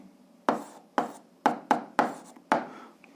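A pen taps and scratches on paper in six short, sharp strokes spaced about half a second apart while an algebra check is written out, close and clear with no talking.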